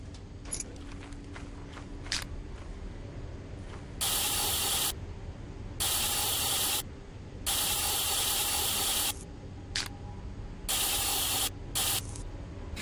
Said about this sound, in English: Make sure you use spray.